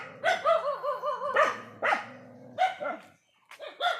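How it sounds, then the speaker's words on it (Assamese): Several dogs barking in bursts, some yips and overlapping barks, close and loud with short pauses between volleys. "কুকুৰকেইটা ভুকিছে কেলে ভুকিছে দেখামগৈ"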